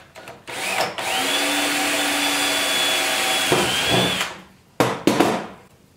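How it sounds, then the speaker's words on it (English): A power drill whirs steadily for a few seconds as it bores a 3/16-inch hole through a plastic 5-gallon bucket, followed by short bursts of the motor and handling clatter. "we're going to drill a 3/16 hole on our black dot."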